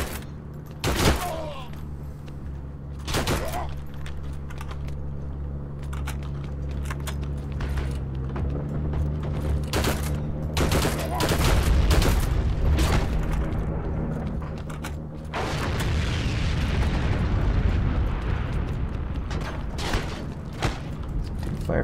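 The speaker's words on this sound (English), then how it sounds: "Fire from all directions now." Gunfire cracks from all directions in the Heroes & Generals video game, with sharp shots scattered through a dense, busy battle din and a heavier stretch of blasts midway.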